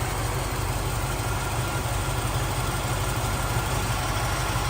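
A 1990 Land Rover 90 County station wagon with a V8 engine idles steadily, a loud, even burbling rumble with constant low pulsing and no talk over it.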